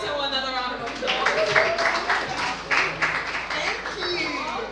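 An audience claps and cheers for a spoken word performer at a Lagos event, a steady mass of applause with whoops rising over the noise for several seconds.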